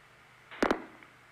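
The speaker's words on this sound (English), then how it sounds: "That's the sound of Youngstown, Ohio, dumping us into a trunk to Canton." A telephone exchange in Youngstown, Ohio switches a call into a trunk to Canton, heard as a brief sharp double click or burst about halfway through, otherwise quiet line hiss.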